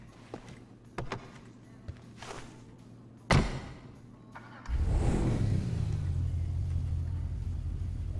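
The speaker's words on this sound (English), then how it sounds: "you all know this one, that is the Bugatti Veyron" A Bugatti Veyron in the GTA V video game: a few scattered clicks and a sharp thump give way to a loud, deep engine roar that holds steady to the end.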